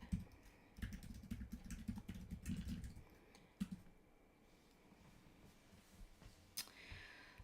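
Fast, close clattering keystrokes on a computer keyboard fill the first few seconds, then a few scattered, quieter key taps follow over a faint room hum.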